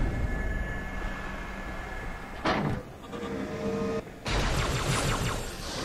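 An elevator lift in the Halo 2 video game runs with a steady mechanical rumble and hum, broken by a couple of sharp clanking shifts partway through, loud and continuous with no voices.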